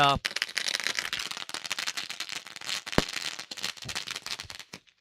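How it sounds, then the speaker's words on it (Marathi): Firecrackers burst in a rapid crackling string to welcome guests at a local cricket tournament match, a dense run of sharp pops with one louder bang, partly under a commentator's voice. "मान्यवरांचं बघा फटाक्यांच्या आदर्शबाजीमध्ये स्वागत केले जात आहे."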